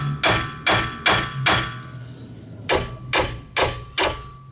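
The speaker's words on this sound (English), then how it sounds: "we'll just take our hammer and we'll hit this and break it loose from the spindle here" Heavy hammer blows strike a 2008 Dodge Avenger wheel hub to break it loose from the spindle, in two rhythmic bursts, four sharp clanging hits, a pause, then four more, loud and close.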